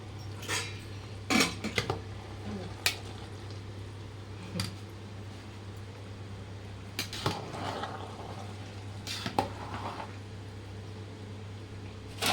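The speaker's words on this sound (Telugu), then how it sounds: "ఇప్పుడు మళ్ళీ రైస్ని కలుపుకోవాలి" A spoon scrapes and clinks against a pot while rice is stirred for a festive mutton biryani, with scattered sharp metallic knocks spaced by quiet pauses over a low steady hum.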